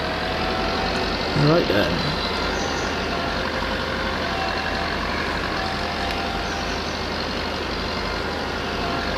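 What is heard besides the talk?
vintage tractor engine in Farming Simulator 22 video game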